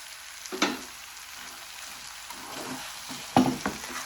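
Okra fries in a pan with onions and green chillies, a low steady sizzle underneath two sharper bursts of stirring and clatter as ingredients are tossed in, close and moderately quiet.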